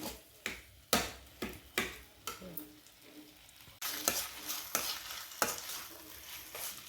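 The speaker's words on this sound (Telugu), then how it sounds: "ఒక నిమిషం ఈ ఆయిల్లో ఇవన్నీ వేసినవన్నీ కొద్దిసేపు వేయించుకుని" Potato curry ingredients fry in oil while a spoon repeatedly knocks and scrapes the pan, giving a string of sharp clacks over a continuous close sizzle.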